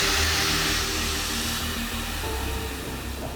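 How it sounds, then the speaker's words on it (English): An air-powered vacuum pump cleaning out an aircraft fuel tank during heavy maintenance gives a steady, loud whooshing roar with a low hum beneath it. There is no talk. "This is the vacuum pump that works with air, because obviously you cannot work with electricity in the fuel tank."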